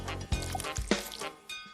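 Water is added in a cooking video game, heard as a few soft, quiet liquid drips and squishy plops spaced out over under two seconds.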